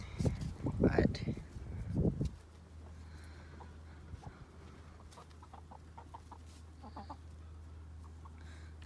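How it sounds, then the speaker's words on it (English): Chicks in a brooder peep and cheep in faint scattered calls over a steady low hum, following a few seconds of nearby speech at the start. "Go check on the chicks in the brooder now. Here's the chicks."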